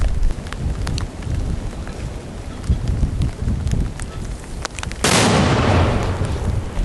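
A sudden loud boom of a mortar firing a round at the front line cuts through crackling outdoor noise, followed by a long rumbling roar that fills the air.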